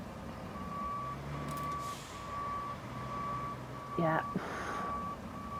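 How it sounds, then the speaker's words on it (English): A truck's reversing alarm beeps in an evenly spaced series in the Roadcraft video game, alongside engine rumble and a hiss of air brakes, while someone briefly speaks. "I'm going to try and back this truck up or spin it around."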